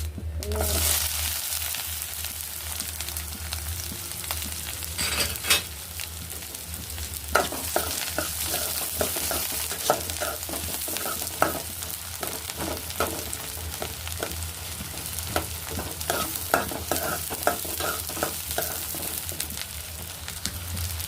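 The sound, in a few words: onion frying with mustard seeds, cumin and fenugreek in oil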